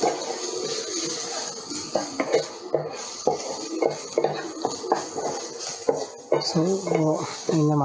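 Masala mix being stirred in a pan for home-style fish puttu, with a utensil scraping and clinking against the metal in repeated short strokes, close and fairly loud, with faint kitchen noise around it.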